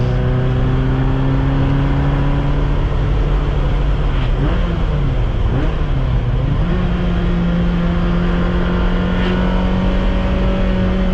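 A Ferrari engine hums loudly and steadily from inside the car while driving, its pitch dipping and wavering as the revs drop and climb again during a shift, then settling into an even drone.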